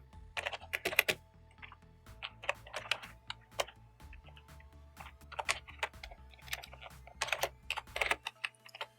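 Fingers tap away at a computer keyboard in uneven bursts of crisp, close keystrokes with short pauses between runs, entering numbers and text for a program, with no talking.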